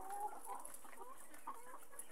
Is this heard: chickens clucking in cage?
yes